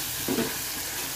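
Eel fish is stir-fried in spice paste in a pan, giving a steady close sizzle with a brief scrape of stirring.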